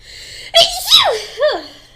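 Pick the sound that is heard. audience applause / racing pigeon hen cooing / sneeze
sneeze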